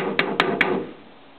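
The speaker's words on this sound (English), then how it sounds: "Take the filter off and you just tap out." A chainsaw air filter is tapped three times in quick, evenly spaced knocks to shake out dirt, the sharp raps standing over a steady background rumble that quiets after the last tap.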